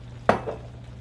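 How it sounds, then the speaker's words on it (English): Wine rinsed off a plate splashes into a hot steak pan with T-bone steaks. A single sharp sizzling burst is followed by a short fading hiss. "I'm just gonna rinse the plate out a little bit with some of my wine, pour it in there"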